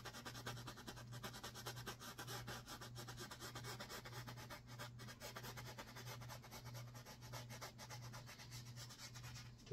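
Brush or palette knife scraping across a painting surface to carve out a path, a continuous faint dry rubbing and scratching with no talk.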